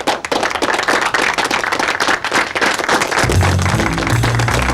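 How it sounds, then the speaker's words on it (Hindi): A crowd applauds at a gathering celebrating a man's success, dense continuous clapping from many hands, fading out as a low musical hum rises underneath. "करीम साहब की कामयाबी के लिए तालियों की गूंज सुनाई देनी चाहिए"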